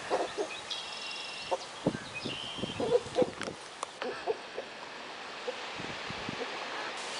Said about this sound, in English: So we've got one rooster and two hens here.